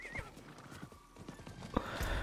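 Horse hooves clip-clop in a steady rhythm with a whinny in Diablo IV gameplay, close and clear over faint game ambience, with a brief voice near the end.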